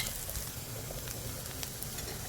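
Onion and coconut roast in a hot pan for a village-style mutton curry, giving a faint, even sizzle with a few small crackles and no talk over it.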